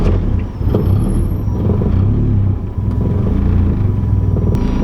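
A car engine bursts to life on its first start after new aftermarket motor mounts go in, a loud, close, steady low rumble with brief dips, no talking.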